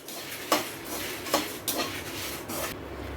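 Coriander seeds and dried red chillies dry-roast in a pan for Kumbakonam sambar powder, with a soft rustle broken by about four distinct scraping strokes of a spatula against the metal, close and fairly quiet.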